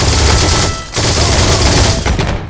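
A rapid burst of loud gunfire in the video game Heroes and Generals crackles close by, with a brief pause before another volley of shots rattles out.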